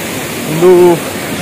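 Honnamma Devi Falls near Chikmagalur gives a steady broad rush of falling water, heard briefly at moderate distance, with a short vocal sound rising over it.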